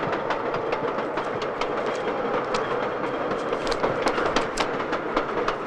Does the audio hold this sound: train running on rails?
yes